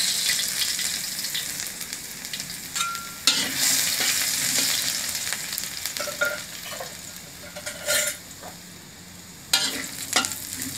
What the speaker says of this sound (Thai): เฮาก็สิเอากระเทียมเจียวลงไปเจียวซะก่อนจ้า